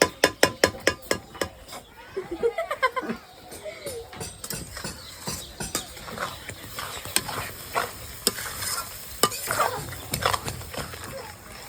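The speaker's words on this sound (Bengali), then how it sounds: "মশলা তেল ছাড়া অব্দি কষে নিয়েছি" A ground spice paste is fried and stirred in oil in a wok, with a rapid run of sharp scraping knocks at first, then uneven clatter and soft sizzling while people talk nearby.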